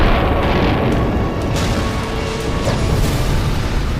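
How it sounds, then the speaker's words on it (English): A massive, loud roaring boom from an asteroid striking the Gulf of Mexico sustains a dense, rumbling blast for several seconds with no pause. "The sonic boom it creates is one of the loudest noises the world has ever known."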